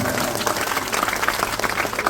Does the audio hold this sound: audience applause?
yes